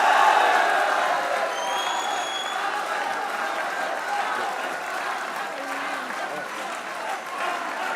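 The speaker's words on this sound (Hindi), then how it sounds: "और अहमद भाई की तरफ से बाबर के लिए तालियां होनी चाहिए।" A studio audience on a cricket talk show applauds steadily for about eight seconds, a dense wash of clapping that fades slightly after a louder start, with possible faint cheers mixed in.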